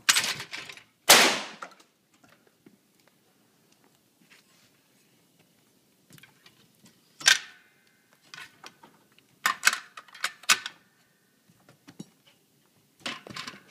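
Sharp gunshots crack out while shooting skeet with a rifle, a few loud reports scattered across the clip with quieter clicks and handling noises between them.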